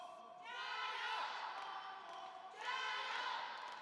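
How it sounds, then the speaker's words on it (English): Crowd of Chinese supporters at a men's table tennis semifinal, the 2017 Qatar Open, raising a sustained cheer and chant in two loud swells across a large arena. "You can hear the crowd here, a lot of Chinese supporters and fans in the crowd."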